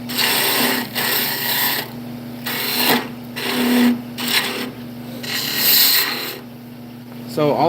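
A heavy bowl gouge cuts into knotty wood spinning on a lathe, a steady raspy scraping with a constant motor hum beneath and cuts that swell and fade in uneven passes.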